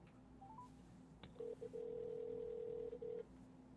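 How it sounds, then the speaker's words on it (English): A phone call is placed: a few short dialing beeps, then a steady electronic ringback tone that plays with brief breaks, quiet and clear. "So we're going to go ahead and give Leister a phone call."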